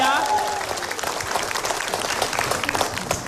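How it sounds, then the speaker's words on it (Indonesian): Studio audience applause on an Indonesian comedy talk show, a dense steady patter of clapping throughout with a brief tonal sweep at the start. "ini saya mohon tepuk tangan dulu untuk pengamat budaya"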